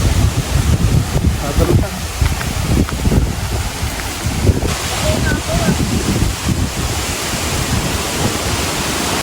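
Strong outdoor wind buffets the microphone in a steady, loud roar for the whole stretch, with faint voices briefly surfacing underneath.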